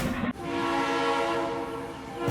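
A train on Hanoi's narrow Train Street, passing close by with a loud sustained horn blast and rumbling rail noise.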